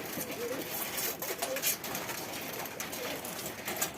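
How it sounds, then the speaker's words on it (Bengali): Local Bangladeshi pigeons coo softly and steadily on a roof outdoors, a low murmuring burble repeating over a constant hiss of background noise. "টোটাল এই চালের উপরে আপনার সাতটা কবুতর আছে"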